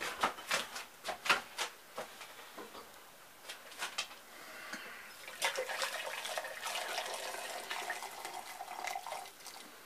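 Boiling water splashes and pours in a steady stream after a few sharp clinks, rising into a continuous rushing flow into a container of salted cabbage and beetroot being pickled.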